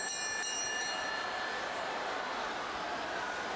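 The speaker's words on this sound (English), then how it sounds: "But referee Dick Lutz has already called for the bell" Ringing bell at a Madison Square Garden pro wrestling match, with steady bright tones over a loud, constant arena crowd roar and a few sharp strikes near the start.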